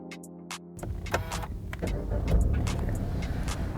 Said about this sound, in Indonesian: Mobil sudah menyala.